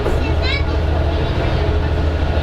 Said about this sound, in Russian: Но вот такой вот трамвай.